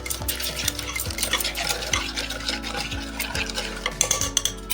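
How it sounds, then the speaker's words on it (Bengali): Boiled broad bean dal being mashed in a pot with a utensil, leaving it slightly chunky, giving repeated rhythmic scraping and knocking strokes, steady and close with no talk. "এবার এটাকে একটু আমি ঘুটে নেব, একটু দানা দানা রেখে ঘুটে নেব"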